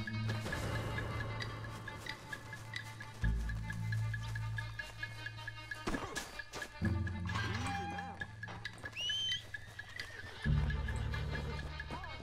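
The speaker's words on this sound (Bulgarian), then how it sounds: "Коня е тук между другото." A horse in the video game Red Dead Redemption 2 whinnies with clip-clopping hooves and clinking tack, set among game ambience, while someone talks over it in places.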